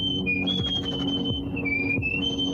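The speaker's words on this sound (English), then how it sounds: "His whistling is bothering you that bad?" A man whistles a wavering, sustained tune at close range, accompanied by a low rhythmic thumping in the background.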